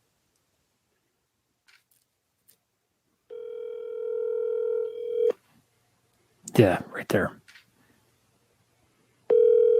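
A telephone call goes unanswered: a steady ringback tone sounds for about two seconds, then a burst of voices talking, then the tone starts again at the end.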